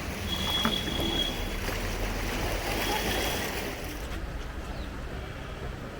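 Swollen Ganges river at Haridwar rushing past in a steady, dense roar of flowing water that fills the whole clip and eases slightly toward the end.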